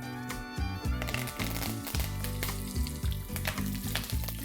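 Curry leaves and peanuts fry in hot oil in a pan, a steady close sizzle with dense crackling and spitting throughout and no talking.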